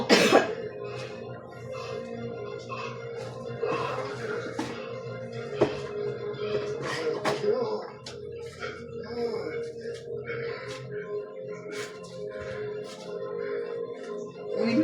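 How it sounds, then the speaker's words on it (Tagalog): Several short, sharp coughs scattered over a quiet background hum, with faint talking in the room. "Ubo."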